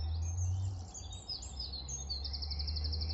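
Birds chirp and tweet high and continuous in a York wetland, with a steady low rumble of wind or distant traffic underneath and no voices.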